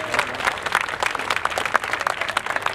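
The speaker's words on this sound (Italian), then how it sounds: "Io prima di cominciare farei un bel applauso per Donato" A crowd applauds at an outdoor inauguration ceremony in an Italian village square, brisk close clapping with irregular individual claps standing out, fairly loud throughout.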